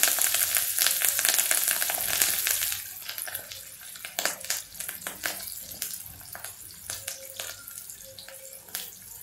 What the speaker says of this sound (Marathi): मी फोडणी केलेली आहे मोहरी आणि हिंगाची. आणि आता ही मिरच्या टाकल्या याच्यामध्ये.